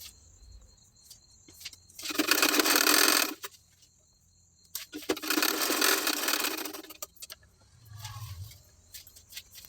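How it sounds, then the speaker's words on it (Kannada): Side tucks are stitched on a sewing machine in two bursts of a few seconds each, a close, buzzy mechanical whir, with soft handling noises and a short lower hum in the gaps. "ಇಲ್ಲಿ ಸೈಡ್ ಟಕ್ಸ್ನ ಸ್ಟಿಚ್ ಮಾಡ್ಕೊಳ್ತಾ ಇದ್ದೀನಿ."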